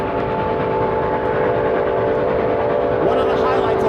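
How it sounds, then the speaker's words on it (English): A vintage train rolls past during a photo run-by, a loud, continuous rumble of wheels and engine with a sustained horn-like tone layered over it, near and steady throughout. "the train backs up, and comes chugging along"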